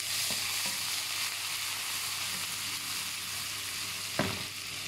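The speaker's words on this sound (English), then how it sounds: "First, let's fry the ginger." Ginger frying in a pan for chicken curry, a steady hiss of sizzling oil with a few soft scrapes and one sharper clack of a utensil near the end, close and alone.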